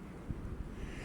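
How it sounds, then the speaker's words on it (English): Cold wind outdoors buffeting the microphone, a faint, low rumbling roar with soft gusty bumps, steady through the brief moment and with no talk. "It's nice out here, but it's also cold and windy."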